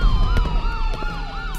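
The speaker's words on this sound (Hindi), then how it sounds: "तभी एम्बुलेंस का सायरन बजा" An ambulance siren wails loudly and steadily, its rising and falling tone sweeping repeatedly over a constant low rumble, with no voices.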